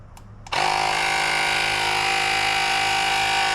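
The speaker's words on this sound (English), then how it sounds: "36 pounds, and now I just hit the pump." Electric air pump inflating a mobility scooter tire, a 3.00-10 size, switches on with a sharp start and then runs as a loud, steady mechanical buzz with a droning hum, continuing without a break and with no talk over it.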